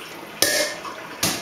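Rose water collected in a bowl is tipped out in two quick splashing pours, each a short burst of water noise, with a faint clink of the bowl between them.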